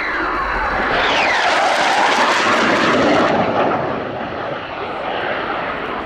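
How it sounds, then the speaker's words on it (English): Saab 39 Gripen jet of the Czech Air Force in a solo flying display, engine on reheat: a loud, continuous roaring jet that sweeps in pitch as it passes, swelling in the middle and then easing slightly, with no talk. "And you'll notice they had to come out and reheat, so that rate of acceleration didn't continue"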